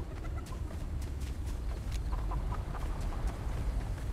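Chickens in Fortnite gameplay cluck and coo close by: scattered, short squawks and clucks repeat over a busy, rumbling game background, with no speech.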